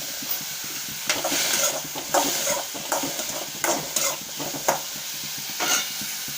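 Onions sizzle and fry in a hot pan for tomato chutney, with repeated scraping stirs of a spoon breaking through the steady close hiss.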